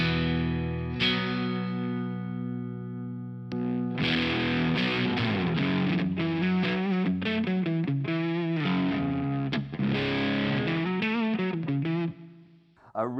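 An electric guitar played straight through an amp with the fuzz pedal switched off, giving an overdriven, effected tone: a held chord first, then busy riffing with quick notes and bends, close and fairly loud, fading out at the end.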